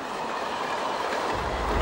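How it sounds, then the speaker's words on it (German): A DB class 189 multi-system electric locomotive coasting unpowered over rails with its pantograph lowered, a steady rolling rumble and hiss of wheels on track, close and continuous, with a deeper rumble swelling near the end. "Mit dem vorher gewonnenen Schwung rollt der Zug ohne Antrieb über die Grenze."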